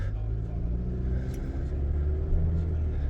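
A 2025 Chevrolet Colorado pickup fitted with Timbren SES suspension, heard from inside while driving on rough city roads: a steady low engine and road rumble with continuous tire noise and no clear bumps.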